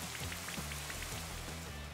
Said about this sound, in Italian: Arriva la pioggia.